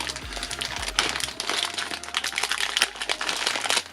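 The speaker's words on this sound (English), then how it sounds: "So let's just tear this up." Plastic packaging of a Samsung 45 watt charger is torn open by hand, giving loud, continuous crinkling and crackling with sharp rips throughout, close to the microphone and without speech.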